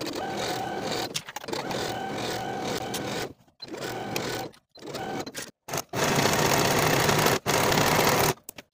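A home sewing machine stitches the inseams of Butterick 6865 comfy pants, its motor whirring loudly in several bursts of a few seconds each, split by short silent pauses as the fabric is repositioned.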